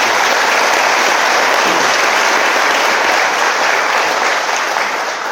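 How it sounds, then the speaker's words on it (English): An audience at a corporate core values awards celebration applauds steadily and loudly, a dense unbroken wash of clapping from many hands that carries on alone for several seconds. "Keep applauding for our HR, safety, benefits, and legal team"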